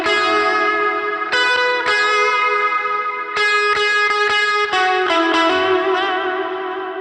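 An electric guitar plays a lead line through overdrive and a dotted-eighth delay on an HX Stomp pedalboard: sustained, distorted notes with repeating echoes, loud and close, with no voices.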